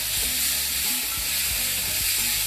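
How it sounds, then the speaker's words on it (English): Cherry tomatoes sauté in olive oil in a hot pan, producing a loud, steady sizzle with soft stirring scrapes throughout. "Olive oil, just saute it around, and season it with black pepper and salt."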